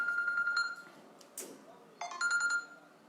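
A telephone rings for an incoming call, with two short electronic ring bursts separated by a brief pause and a faint voice-like sound between them.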